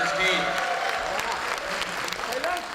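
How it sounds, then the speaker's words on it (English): An auditorium audience at a memorial lecture applauds a Rangoli artist, a steady patter of clapping from a sizable crowd that holds for a few seconds, with a voice over it. "A big round of applause for Rangoli artist."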